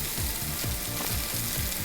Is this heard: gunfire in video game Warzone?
no